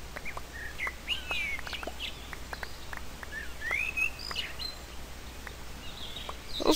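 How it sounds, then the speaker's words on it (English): Birds call and chirp in a Minecraft Crazy Craft world, with scattered short tweets and a few longer whistled phrases rising over a faint steady ambient hiss, moderately near and without talk. "Those bird calls are pretty cool."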